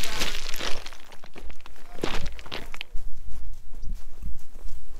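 Irregular footsteps crunching on rough, rocky ground, close by, with occasional scraping and clattering of loose stones.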